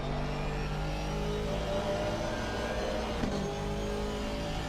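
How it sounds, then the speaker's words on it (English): An Aston Martin race car engine in a video game drones loudly and continuously, holding a high rev pitch with a brief shift partway through. "The Aston sounds good on board."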